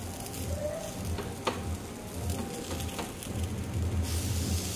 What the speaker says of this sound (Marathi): हे सगळे असेच पलटी करून घ्यायचे आहेत।